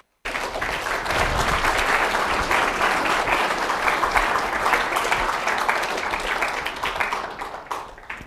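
An audience at an evening lecture applauds to welcome Dr. Heller, a dense, sustained wash of clapping from a full room that holds steady for several seconds before tapering off.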